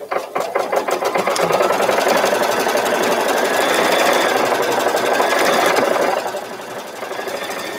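An embroidery machine stitches a pattern with a rapid, steady mechanical chatter of needle strokes that runs continuously at close range, then eases to a lighter, quieter rhythm near the end.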